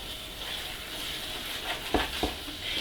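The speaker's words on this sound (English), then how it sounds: "You're going to keep stirring this continuously while you cook it off." A coconut and semolina mixture for Goan baath cake cooks in a pan with a soft, constant sizzle, while a spoon gives a few scraping strokes near the end.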